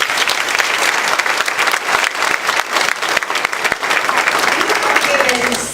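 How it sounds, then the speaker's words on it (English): Audience at a Shaw University homecoming Sports Hall of Fame ceremony applauds steadily, a dense, loud wash of clapping sustained for several seconds with no voices on top. "please join me in giving Mrs. Robinson and the Athletic Hall of Fame Committee a round of applause"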